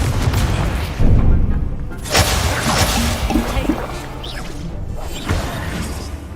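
Spell-casting effects from the Hogwarts Legacy video game, with the Incendio fire spell among them, come as loud whooshing bursts and crashing impacts one after another in a dense combat mix.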